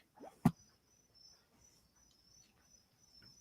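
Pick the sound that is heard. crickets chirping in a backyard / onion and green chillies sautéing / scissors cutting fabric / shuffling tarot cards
crickets chirping in a backyard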